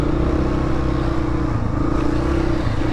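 A dirt bike engine drones steadily on a muddy trail in a remote area, a loud, close, continuous low rumble with only slight shifts in pitch and no speech.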